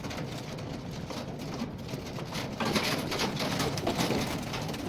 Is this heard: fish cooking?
no